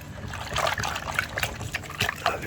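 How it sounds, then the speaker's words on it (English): Air filter cleaning powder being stirred into water, a milky solution swirled in a container, with soft trickling and light sloshing that continues steadily for a couple of seconds, close and moderately quiet. "Now I'm just giving this a bit of a mix."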